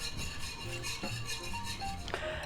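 Drinking wine being stirred into a pan with a utensil after searing a thick sous vide chuck steak, giving soft scraping and light clinks against the pan.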